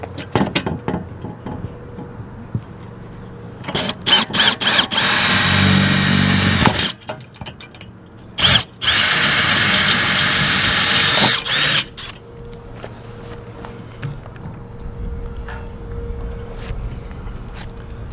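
Power drill driving into material behind a ladder, two sustained whirring runs of several seconds each between softer clicks and handling knocks, close and fairly loud.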